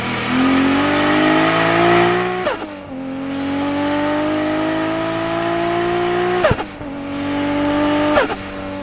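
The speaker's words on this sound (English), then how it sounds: "it's the noise from the inlet on the turbo side that like makes that noise" A 1JZ turbo engine in a drift-built Lexus IS300 revs hard three times, its rising whine and turbo inlet noise climbing steadily before each sharp drop as the throttle closes, loud and close.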